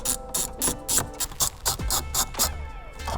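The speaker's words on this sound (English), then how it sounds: "let's go ahead and put back the 4 10mm bolts" Ratchet wrench driving 10mm bolts back into a Toyota Corolla during a speaker install, a run of quick clicking bursts in close succession, loud and close with no talking.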